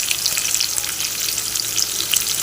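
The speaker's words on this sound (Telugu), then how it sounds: "ఇందులో కొంచెం సాల్ట్ వేస్తే ఉల్లిపాయ తొందరగా వేగుతుంది." Chopped onions with a pinch of salt sizzle steadily in hot oil for sambar, a loud, continuous close-up hiss with small crackles throughout and no talking.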